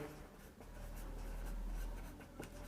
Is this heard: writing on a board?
yes